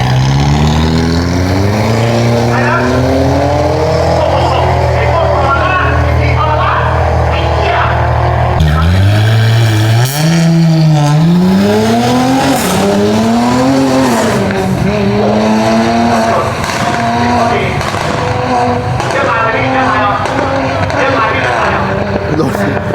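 Cars on a street during a university drag party, engines loud and close, revving up and down in pitch with whooshing passes and some tire noise, continuing throughout.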